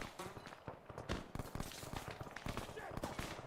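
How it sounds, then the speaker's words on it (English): Gunfire in the Arma 3 video game pounds a building, with bullets striking walls and windows in dense, rapid bursts of loud, sharp cracks and impacts that continue throughout. "And the bullets are going through the windows, as you see, or through the walls."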